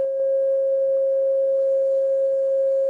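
A steady pure tone at 540 Hz, assigned to the pentagon in a sacred geometry class, sustains evenly and loud for about three seconds with no other sounds.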